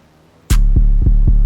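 808 bass and kick drop into a sparse minimal beat after a quiet lead-in: a bright hit, then a sustained booming low 808 with three more kick thumps pulsing at steady intervals, loud and upfront.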